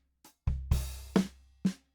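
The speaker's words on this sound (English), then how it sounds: "It's a Superior Drummer library. It's called the Singer-Songwriter EasyX, and it sounds super, super good." Sampled acoustic drums from the Superior Drummer Singer-Songwriter EasyX library play a sparse, soft folk pattern: a faint hit, then kick thumps and brighter snare or cymbal strokes spaced apart, each decaying quickly, with no voices.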